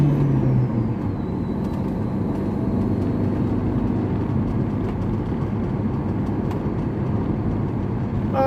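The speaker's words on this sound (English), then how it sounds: "a bunch of trucks over here with yellow flashing lights" A group of trucks with yellow flashing lights idles nearby, a loud, continuous low rumble and drone throughout, with faint hissing and clatter on top.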